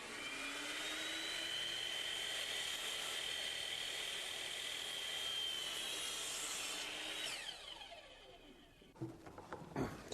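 A power saw cuts through a wooden stair baluster, a steady sustained whine for about seven seconds that winds down, followed by a few sharp knocks and handling clatter.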